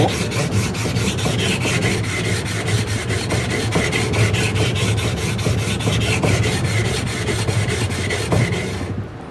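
A chisel blade is rubbed back and forth on a whetstone, a steady close rhythmic scraping rasp with regular strokes throughout, no talking.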